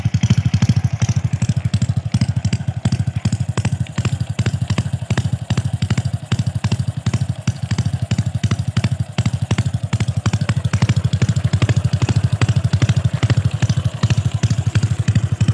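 A Honda 110cc motorcycle fitted with a modified racing exhaust idles steadily up close, its loud, rapid clattering exhaust pulses running continuously with no talk.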